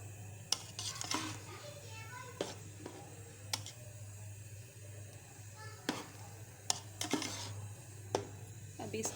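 A spoon scrapes and clinks softly against a pot as butter is stirred while it cooks down into desi ghee. The taps are faint and irregular over a low steady hum.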